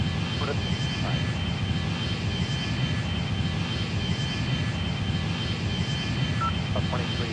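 Airbus A320 jet engines roar at full power during takeoff on a charter flight from Bogotá to Santiago. The loud, broad, steady rumble fills the whole stretch without letting up.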